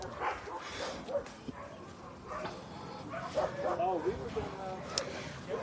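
Dogs at a shelter bark, yip and whimper in scattered bursts, some close and some farther off, mixed in with people talking nearby.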